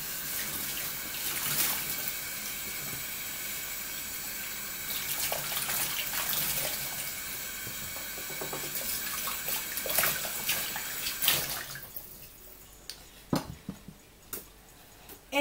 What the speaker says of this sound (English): you want to rinse them through water